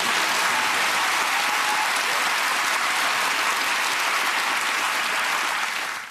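A television studio audience on a panel comedy show greets an arriving guest with loud, sustained applause that fills the whole stretch evenly before tailing off at the very end.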